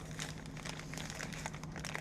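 Paper crinkles and rustles steadily while being wrapped around an item, close and continuous for about two seconds with no voices.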